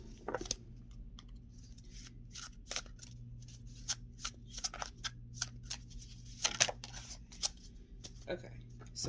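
Tarot cards shuffled by hand close up, a run of quick crisp riffling flicks and taps in uneven bursts over a low background hum, with a voice speaking between the shuffles.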